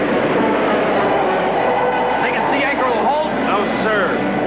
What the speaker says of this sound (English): Worst typhoon I've ever seen.